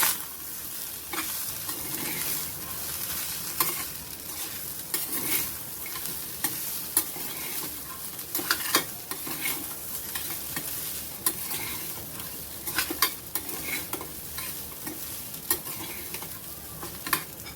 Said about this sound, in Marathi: आणि छान सगळ्या बाजूने आपल्याला हलवून घ्यायची खिचडी